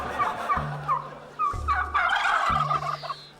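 A turkey gobbles in quick rattling bursts, three or four loud calls close by over a low hum, with no talk.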